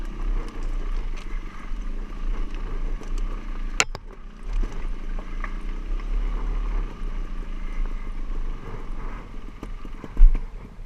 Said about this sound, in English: Going down it is much easier on a bigger bike, but this little thing isn't going to forgive me for poor balance and bike control.